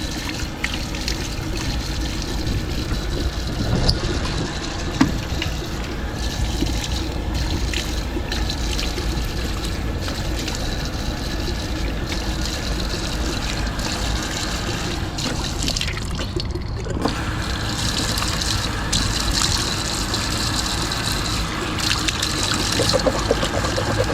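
Tap water runs steadily for face washing at a sink in Singapore's Changi airport, a continuous close trickling and splashing that holds for the whole stretch with only slight shifts in flow.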